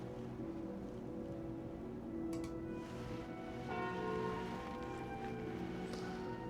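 Curse of the Bell in a card video game, a resonant bell tone sounding with a lingering, ringing decay over a low, steady background hum, no talk.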